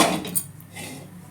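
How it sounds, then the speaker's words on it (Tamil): A metal kadai (wok) set down on a stove, giving a quick clank and scrape of the pan against the burner, fairly close and brief, followed by faint kitchen rustle. "இப்போது கடாய் வச்சுக்கிறேன்."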